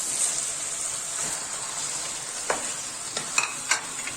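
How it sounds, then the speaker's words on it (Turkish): Peppers sautéing in a pan for a Turkish meat sauté: a steady, close, soft sizzle with a few sharp clinks and scrapes of stirring near the end, no talk. "Arkadaşlar biberlerim iyice kavruldu."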